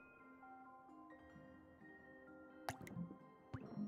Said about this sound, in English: When you see drops hit the water, here's what you don't see.